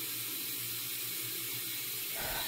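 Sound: water running at a sink while rinsing the face

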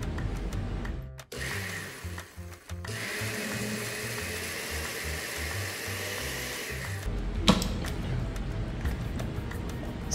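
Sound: mixing sour cream and milk in a blender

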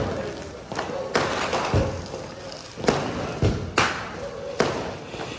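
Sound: firecracker bursting during Diwali

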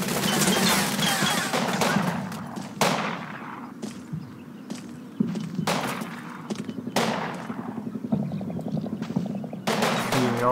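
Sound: gunfire in Combat Mission street fighting video game

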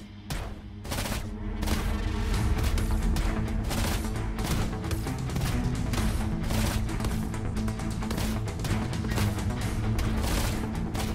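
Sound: character's ultimate gunfire attack in a video game

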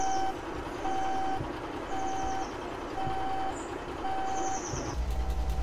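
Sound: truck reversing beeps in the video game Alaskan Road Truckers

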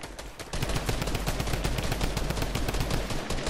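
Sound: gunfire in the video game Fortnite

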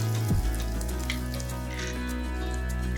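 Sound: asafoetida (hing) sizzling in hot oil

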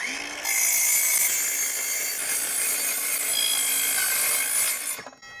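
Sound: carbide saw cutting fridge sheet metal

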